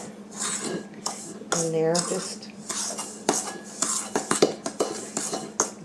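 A spoon scrapes and clinks around a bowl, stirring flour, cocoa, salt and other dry cake ingredients together in a series of close, gritty strokes and taps, with a brief spoken remark.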